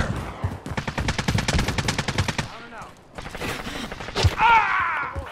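Video game gunfire in a shooter, rapid automatic bursts rattling loudly up close, then a pause, mechanical clicks and a sharp shot before a synthetic tone, with brief game voice lines.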